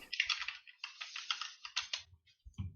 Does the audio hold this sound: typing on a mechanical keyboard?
yes